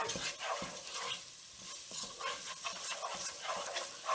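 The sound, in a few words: stirring oregano, tomato and basil spices into a pan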